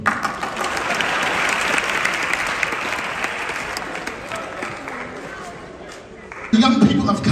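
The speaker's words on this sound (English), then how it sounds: "Somebody give the Lord a great big hand clap of praise." A camp worship congregation claps hands in praise, a dense sustained burst of applause that fades slightly before a sudden loud swell near the end, with voices mixed in.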